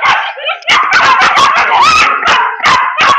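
Dog giving a rapid series of loud, close barks and yips, with short whimpering whines mixed between the bursts.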